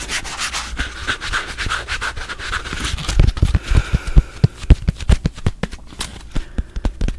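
Scrub Daddy brand sponge rubbing and scrubbing in quick close strokes, a steady abrasive swishing that breaks into sharper, louder rhythmic scrapes partway through.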